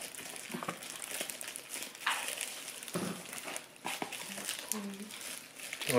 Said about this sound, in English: a mysterious box has just arrived at our door and I'm gonna open it